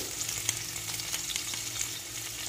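Chopped onion pieces, garlic and green chilies fry steadily in a pan of oil for a palak paneer base, giving a soft continuous sizzle with faint stirring scrapes and no voices.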